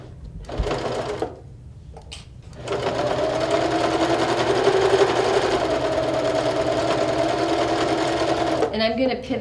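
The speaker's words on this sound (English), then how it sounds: "So we'll just sew all the way around it" A sewing machine stitches around fabric seams, starting with a short burst, pausing, then running steadily at a close, even whir before stopping, with faint talk in the background.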